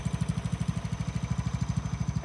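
A John Deere 160 lawn tractor engine with a 42-inch snow plow runs steadily outdoors in light snow, a low rhythmic chugging pulse repeating quickly and evenly at moderate distance.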